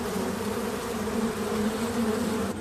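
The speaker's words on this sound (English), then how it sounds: "Each of these is a honeybee hive," Dense, steady buzzing of many honeybees swarming around a cluster of hives outdoors, a loud continuous drone lasting throughout with no voices.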